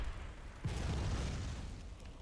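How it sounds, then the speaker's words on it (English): A cannon fires in Bloodborne, a single deep boom that bursts loudly and then rolls off into a long low rumble and wash of noise. "I wonder if the cannon will glitch out like it normally does when I try to use it"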